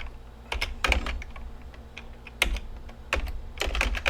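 Typing on a computer keyboard while writing C code: irregular clusters of quick key clicks over a low steady hum, fairly close and moderately quiet, no talking.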